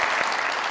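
Studio audience applause on a Pakistani comedy talk show, a dense, loud burst of clapping from a crowd lasting under a second.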